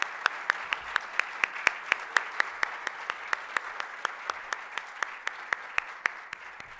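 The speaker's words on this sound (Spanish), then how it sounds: "un aplauso, por favor" Applause at a book presentation at the FIL Guadalajara 2024 book fair, a small audience clapping steadily with distinct sharp claps standing out over a soft bed, moderately near and sustained throughout without talk.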